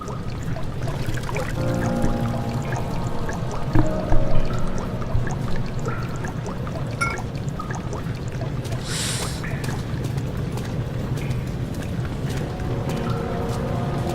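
A flooded sewer draining in the game Amnesia: The Dark Descent, a steady rushing pour and gurgle of water running continuously throughout, with a few faint clanks and a brief hiss midway.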